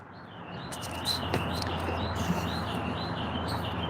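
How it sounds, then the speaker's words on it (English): A bird chirps in repeated high, thin calls at a steady pace, moderately distant over a broad background hiss, with a sharp click at the very end. "That bird has a lot to say."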